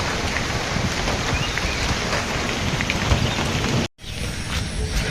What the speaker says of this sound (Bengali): আকাশে এখন গেছে ঘুরে ঘুরে বৃষ্টি হচ্ছে